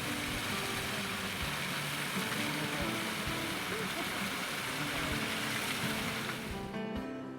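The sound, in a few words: waterfall cascading over rocks into La Luz Creek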